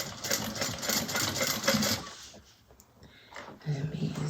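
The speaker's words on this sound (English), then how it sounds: "so now we're ready to sew now that I got my bobbin straight" Domestic sewing machine stitching fabric for a handmade bag, a fast close mechanical whirr for about two seconds, then quieter pauses and short bursts of stitching, with someone speaking.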